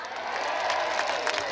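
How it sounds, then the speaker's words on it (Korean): Audience applause at a city-day celebration concert in Osan, a dense patter of many hands clapping steadily from a crowd, with some cheering mixed in. "박수 많이 쳐주세요."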